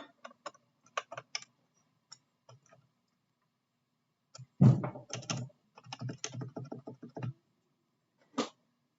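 Typing on a scuffed Realforce keyboard, with scattered soft key presses at first, then denser bursts of muted, thocky keystrokes with short pauses between them, heard close up.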